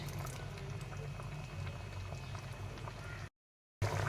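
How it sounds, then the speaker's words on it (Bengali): Paneer and potato curry with raisins simmering over low heat in a pan, a soft, steady bubbling close by for about three seconds before a brief cut to silence and a short return. "একটু সময় ধরে কম আঁচে এটাকে সিদ্ধ করে নেব"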